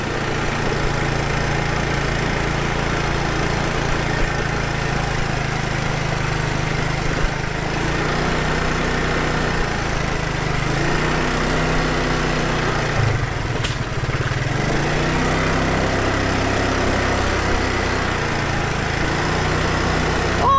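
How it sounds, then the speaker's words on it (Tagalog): A motorcycle engine runs steadily while hauling tiles at a house construction site, a continuous loud mid-pitched drone lasting throughout with slight variations in load. "Lakas lang itong motor na to oh."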